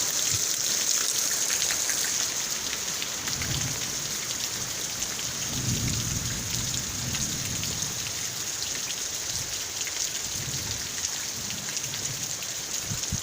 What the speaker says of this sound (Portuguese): Dando cada trovão, gente.